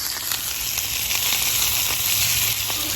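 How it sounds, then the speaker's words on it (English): Salmon lies skin side down in hot oil in a cast iron pan, throwing a loud, even sizzle that hisses on without a break, close up and with no voices. "Placing the fish into the hot oil. See how hot it is?"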